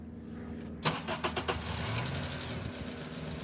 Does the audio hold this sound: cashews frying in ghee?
no